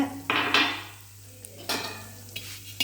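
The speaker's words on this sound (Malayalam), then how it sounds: "വറുത്ത സേമിയാണ് കിട്ടിയിട്ടുള്ളത് അതൊന്ന് ചെറുതീയിൽ ചൂടാക്കുന്നുണ്ട്" Metal spoon scraping and stirring roasted vermicelli in ghee in a pan over low heat with a faint sizzle underneath, a few bright clanks breaking the steady low hum.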